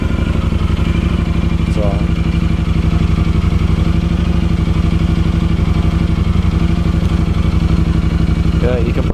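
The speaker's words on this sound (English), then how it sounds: "you can probably hear a little bit of motor noise. That's actually pretty quiet." Yamaha Super Tenere motorcycle engine idling close by, a steady loud throbbing rumble that runs unchanged throughout, with someone speaking briefly over it.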